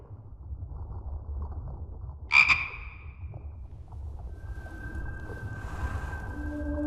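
A single loud, close frog croak sounds in The Book of Unwritten Tales 2 over a low game ambience, followed by a steady sustained tone that lingers to the end; no one speaks.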